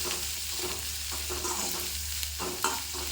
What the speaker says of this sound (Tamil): கொஞ்சமாக கருவேப்பிலை இலைகள் நல்லா கலந்து விட்டுக்கலாம்.